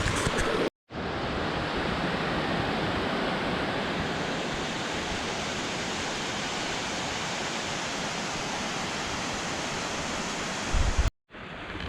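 A rushing mountain creek on the West Coast, a broad continuous roar of water, steady and fairly close, briefly cut off at the start and end with no voices.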